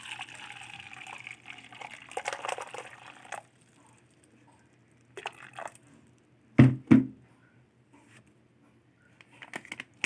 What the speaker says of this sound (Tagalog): Nilagay tayo ng hot water.